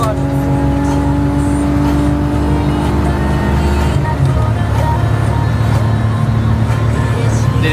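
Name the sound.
BMW E46 engine bouncing off the rev limiter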